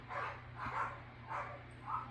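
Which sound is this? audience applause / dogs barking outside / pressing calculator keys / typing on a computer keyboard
dogs barking outside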